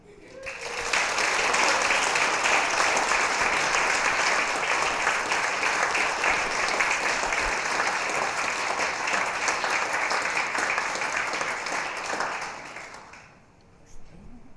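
Loud, sustained applause from a lecture audience welcoming a professor at an inaugural professorial lecture, steady for about twelve seconds before tapering off.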